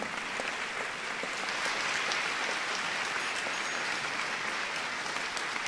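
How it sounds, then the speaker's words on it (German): A poetry slam audience applauds in a steady, even wash of many hands clapping, heard from a moderate distance without pauses. "einen herzlichen Applaus für Fia und David"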